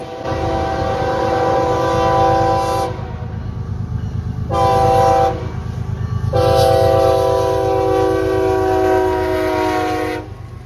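A BNSF freight train rumbles past nearby with a steady low roar and rhythmic wheel clatter, its horn sounding in several long blasts.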